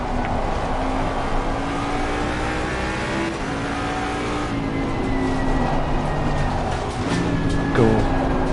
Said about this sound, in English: The car is exiting the pits, watch out.